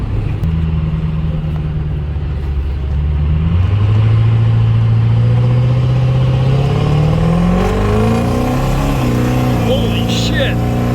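A 6.0 Powerstroke diesel truck fitted with an S369sxe non-VGT turbo makes a loud, close full-throttle pull in four-wheel drive, its engine note climbing steadily in pitch, with a turbo whistle rising near the end.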